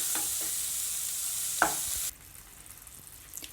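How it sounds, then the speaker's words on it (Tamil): Chilli powder and garam masala stirred and fried in oil for a chicken fry, giving a steady bright sizzle with spoon scrapes that drops abruptly to a quieter crackle partway through. "மிளகாய் தூள் கரம் மசாலா தூள் நல்லா கிளறி விடுங்க மசாலா வந்து நல்லா கொஞ்சம் எண்ணெயில் கொஞ்சம் வதங்கட்டும்"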